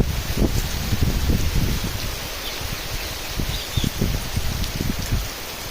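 Steady rain falls outdoors, a dense broadband hiss with irregular low pattering thumps from drops landing nearby, continuous and moderately loud throughout with no voices.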